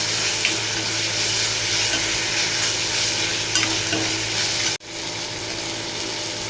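Onion, tomato, ginger-garlic paste and curry leaves sauté for a crab gravy, giving a steady, close hiss of oil with scraping stir strokes throughout and one abrupt momentary drop near the end.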